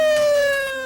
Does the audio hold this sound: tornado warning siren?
yes